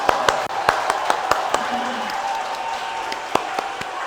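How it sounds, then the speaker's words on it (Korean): Scattered, uneven claps from a church congregation sound as sharp, separate hits over a low murmur of the room. "우리 박수 한번 합시다."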